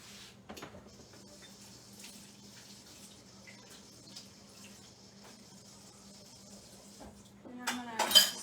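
A spoon stirs a tablespoon of gelatin into a quarter cup of cold water in a cup: faint, sparse clinks and soft scraping over a quiet kitchen hum, ending in a louder clatter of utensil against the cup.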